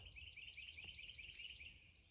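Small birds chirp in Appalachian Trail woods, a faint, continuous run of high tweets over a low background hum, heard alone without voices.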